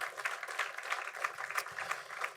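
Applause from a round-table conference audience on building-materials reuse, a steady patter of many hands clapping at moderate distance, continuous and unaccompanied by talk.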